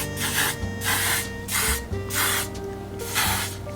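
Setting spray misted from a pump bottle, four short bursts of hissing spray spaced about a second apart, close and fairly loud.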